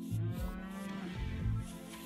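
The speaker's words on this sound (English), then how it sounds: "Cows producing milk, which I love." Cattle in the RimWorld colony-simulation video game mooing, two or three short low moos close together, loud and clear with no talk.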